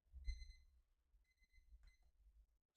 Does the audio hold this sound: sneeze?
no